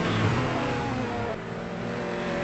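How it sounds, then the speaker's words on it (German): A BMW M3 E30 race car fitted with a V8 engine accelerates during a VLN endurance race on the Nordschleife, producing a continuous, loud engine roar that eases slightly midway. "Im BMW M3 E30 mit V8 Motor."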